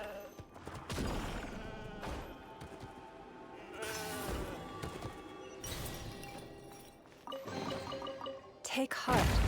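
A goat bleats in the Genshin Impact video game, several wavering cries spread across the stretch, amid game sounds and impacts with a louder burst at the end.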